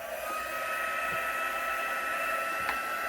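A hair dryer blows a steady, close whir over a freshly washed craft stencil, with no talk.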